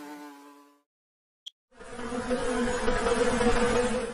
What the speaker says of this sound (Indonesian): hewan mungil itu adalah lebah.